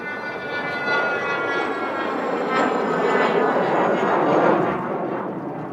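A chase plane passing low over the big Mojave runway during a Stratolaunch test flight, a loud engine roar swelling as it sweeps overhead, then easing slightly, with no talking.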